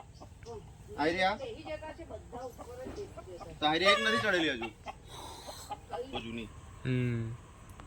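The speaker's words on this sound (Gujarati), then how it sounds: "આ બાજુ મરઘી અને અંદર ઘરમાં પૂરવાના હવે અંધારું થઈ ગયું" Hens cluck near their coop at dusk, soft and intermittent beneath frequent close conversation, with a short clearer burst of clucking toward the end.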